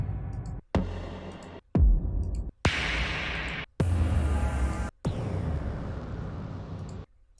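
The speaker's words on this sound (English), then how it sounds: "A whole bunch of different creative impacts there." Processed impact sound effects with reverb, a series of about six heavy booming hits with abrupt cuts between them, some with sweeping noisy tails and long reverberant decay.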